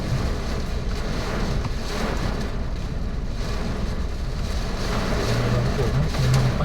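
Gusty wind roars steadily against the microphone during heavy rain with almost zero visibility, a low continuous rumble with faint intermittent tones beneath it.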